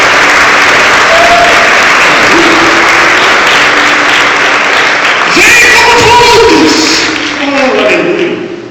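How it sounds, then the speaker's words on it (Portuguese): A church congregation applauds loudly and steadily through a Portuguese-language sermon, the clapping dense and sustained, with a voice calling out over it toward the end before the applause tapers off. "Você pode aplaudir o Senhor por nossa vitória"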